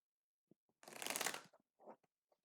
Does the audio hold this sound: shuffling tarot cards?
yes